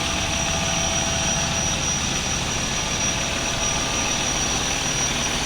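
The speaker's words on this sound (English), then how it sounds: "Engine sounds great." A 2005 CCC garbage truck, a 25-yard Leach rear loader with a bent exhaust, idles steadily with a low, even diesel rumble and a faint high whine, no voices present.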